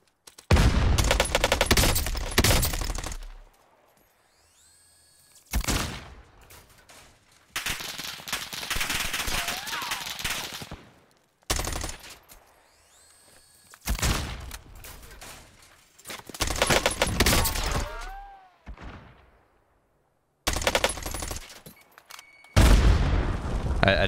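Gunfire and rocket blasts from bots in the Vanguard Warzone video game, loud repeated bursts and booms in several separate volleys with short quiet gaps, some whooshing and ringing tails between them.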